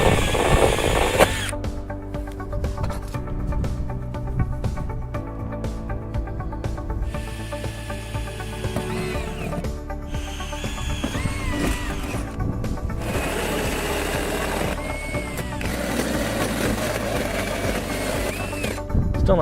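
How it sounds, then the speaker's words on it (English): A power drill fitted with a hole saw grinds steadily through Kaowool ceramic fibre insulation, its motor whining continuously with slight pitch shifts as it bites, close and moderately loud, with no talking. "let's see if you try and use a hole saw on KO wool"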